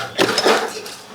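Ceramic mixing bowl clattering against other dishes as it is pulled from a cupboard, a few short clinks over about a second at close range, with no speech.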